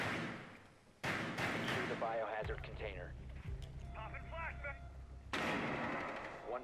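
A flashbang grenade goes off in the Rainbow Six Siege video game, with two sharp, loud broadband bursts standing out over ongoing in-game voices and gunfire-like clatter.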